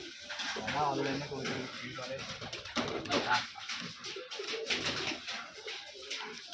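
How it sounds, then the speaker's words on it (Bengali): Pigeons on a Rajshahi farm housing many birds coo steadily and close by, a low throaty rolling call repeating amid flock chatter and rustling. "কবুতর এখানে অনেক কবুতর আছে"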